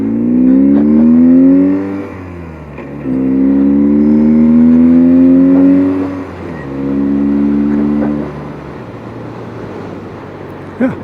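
A 1978 BMW R 80/7 motorcycle with rebuilt carburetors and a cafe treatment runs up through three loud, rising revs and drops back to a steady idle in between, heard up close.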